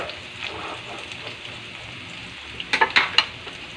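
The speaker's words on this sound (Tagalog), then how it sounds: "Fry ko lang ng kaunti ang ating pork." Pork pieces frying in a pan with garlic and onion, a soft, quiet sizzle that grows into a brief cluster of crisp crackles and spits toward the end.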